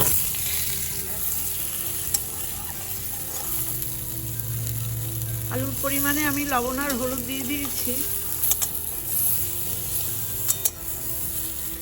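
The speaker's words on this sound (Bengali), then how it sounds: "এই তেলে আমি সেদ্ধ করে রাখা আলুগুলো ভেজে নেব" Boiled potatoes fry in mustard oil in a wok with salt and turmeric, giving a steady close sizzle with occasional stirring scrapes while someone speaks over it.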